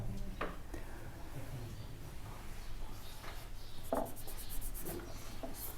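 Pen scratches across paper as a Class 10 maths solution on surface areas and volumes is written out, giving faint intermittent strokes and taps close by with little other sound.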